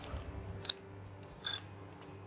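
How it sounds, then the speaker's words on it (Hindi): Scissors snip open a small yeast packet in a kitchen, giving three quiet, crisp cutting sounds spaced apart with soft rustling between. "इसको मैं काट लेती हूँ पैकेट को"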